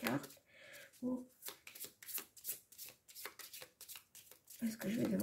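Tarot cards being shuffled by hand in a series of quick riffling, slapping bursts, close and fairly soft, with someone speaking at the start and end.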